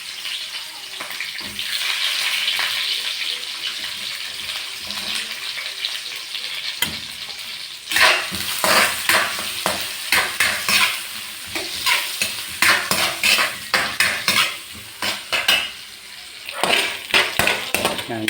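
White onion and garlic stirred and fried in a pan: a steady sizzle with a loud burst when added, then repeated scraping strokes of the spatula, close and alone.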